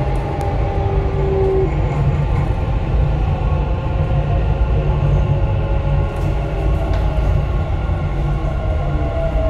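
Dubai Metro train running between stations, a loud continuous low rumble and rolling hum heard from inside the car, with faint squeals and a brief tonal whine early on.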